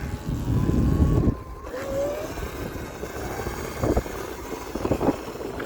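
A Sur-Ron electric dirt bike with new aftermarket foot pegs is test ridden. It gives a loud, close motor whine that rises briefly, over a constant rush of wind and rumbling ground noise, with no talking.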